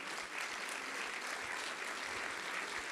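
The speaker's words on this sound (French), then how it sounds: "Je pense qu'on peut les applaudir vraiment chaleureusement." Delegates at an insurance trade union federation congress give a warm, steady round of applause, a continuous dense clapping texture heard from some distance without talk.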